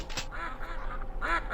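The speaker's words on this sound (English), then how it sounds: "Ducks are just annoying." Several quacks from ducks in the video game Killing Time Resurrected, repeated in short bursts over steady game background noise, fairly close and clear.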